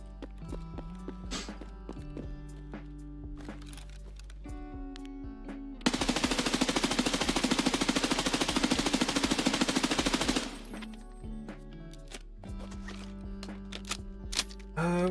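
An automatic rifle fires a long sustained burst of rapid shots in Escape from Tarkov, loud and close, lasting about four seconds, framed by quieter clicks, footsteps and in-game ambient tones.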